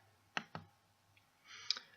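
Two sharp computer mouse clicks close together on a Next button, quiet and close, with faint keyboard-like ticks afterward.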